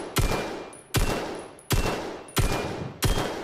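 Five single gunshots ring out in a VR shooter video game on Meta Quest 2. The sharp cracks come at an even pace, each followed by a short decaying tail.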